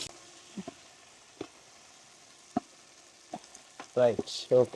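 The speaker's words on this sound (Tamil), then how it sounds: "நல்ல நெய்யில் வதங்கட்டும்" Onions and tomatoes sautéing in ghee, a steady soft sizzle with occasional spoon taps and stirring clatter, and a voice briefly speaking near the end.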